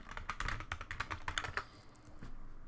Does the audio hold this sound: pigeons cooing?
no